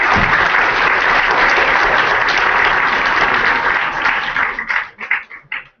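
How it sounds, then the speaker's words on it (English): A workshop audience gives a steady, full round of applause for the presenter of an HTML, CSS and Git session, loud and dense before breaking into scattered final claps and fading out. "Let's give him a round of applause."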